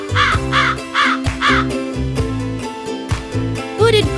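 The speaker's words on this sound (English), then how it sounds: "Hooded crow." A hooded crow caws in a quick series of four loud, harsh calls, then a few rougher, shorter croaks, close and clear with no talking.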